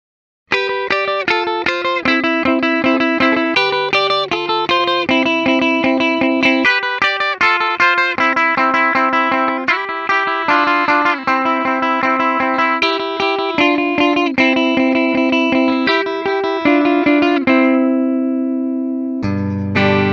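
A 2017 Gibson Abalone Sparkle Custom electric guitar played through effects, picking a bright melodic line with chorus-like shimmer and sustain, loud and close, ending on a ringing note.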